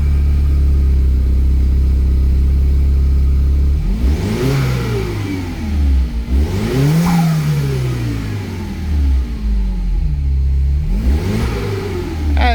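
A worn-out car with a medium engine idles, then revs hard three times in separate bursts that rise and fall back to idle, loud and close with no talk.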